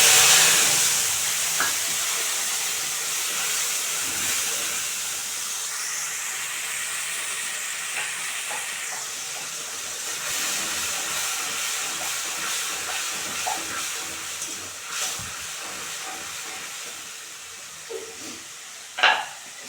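Cashew, ginger, green chilli and cumin paste sizzles in hot oil with a steady, broad hiss that holds throughout, broken by occasional soft clicks and light stirring knocks, with no talk.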